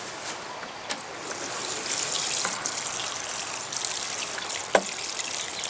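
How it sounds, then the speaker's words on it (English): Water is poured into sandy soil around a newly potted young habanero plant in a garden, a soft steady trickle and splash close by, broken by a couple of small clicks, with no talking. "add water"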